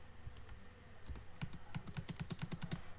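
Keys tapped on a computer keyboard during a Salesforce validation-rule tutorial, a few scattered clicks followed by a quick, even run of crisp keystrokes, close and fairly quiet.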